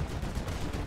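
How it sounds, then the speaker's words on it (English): Rapid gunfire from a gun in the video game GTA 5, a dense burst of shots running continuously through the moment at moderate loudness, with no talking over it. "The sound of this gun sounds like..."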